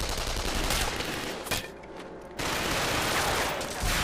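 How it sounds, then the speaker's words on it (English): Rapid machine gun fire from the video game Killzone 3, on the Pyrrhus evacuation mission, crackles as loud, sustained bursts. It breaks off briefly into a quieter lull before the heavy fusillade resumes. "those machine guns are tearing us apart"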